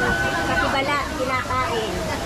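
Kaunawan Falls, a waterfall in Baler, Aurora, gives a steady broadband rush of falling water, with people chatting and laughing over it close by.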